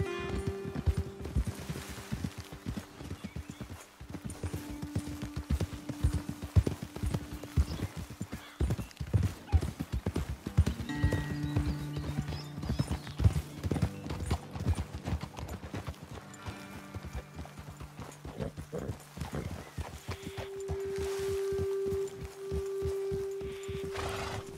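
Horses walking in Red Dead Redemption 2 give a steady, continuous clip-clop of hooves on the ground, close and fairly loud, with a brief whinny and background score underneath, and no voices.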